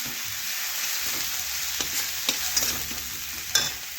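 Green chilli and mustard paste fries in oil with chilli powder, a constant close sizzle broken by a few sharp scrapes and taps of a stirring spoon.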